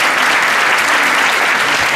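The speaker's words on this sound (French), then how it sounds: "je vais vous demander d'applaudir bien fort nos 4 intervenants." Loud, dense applause from a conference audience thanking four panel speakers, an unbroken roar of many hands clapping close and steady.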